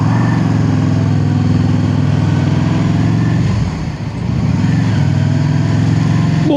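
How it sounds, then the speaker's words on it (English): Motorcycle engines drone steadily and loudly on a road over Kirkstone Pass, a constant low rumble that dips briefly midway before building again, with no talk. "More bikes, 2 wheels."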